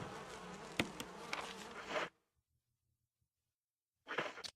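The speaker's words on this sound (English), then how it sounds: "these giant hornets or bees or whatever they are" Giant hornets buzz in the GameCube version of Resident Evil, a dense, close insect drone that runs steadily for two seconds, cuts out into near silence, then returns briefly at the end.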